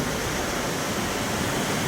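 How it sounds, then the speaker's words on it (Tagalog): Breaking waves at the Magra surf spot in Real, Quezon make a constant, full roar of rushing water, loud and unbroken throughout, with no voices. "Dahil ang ganda ng alon ngayon guys, tingnan nyo."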